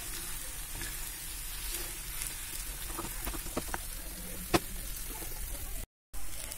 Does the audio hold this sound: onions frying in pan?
yes